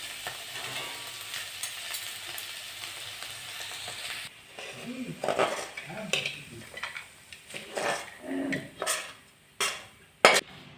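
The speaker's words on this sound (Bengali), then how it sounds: "এবার নাড়িয়ে নেব।" Bitter gourd and potato fry stirred in a pan at the end of cooking: a quiet sizzle at first, then a run of close spatula scrapes and clinks against the pan, irregular and growing louder toward the end.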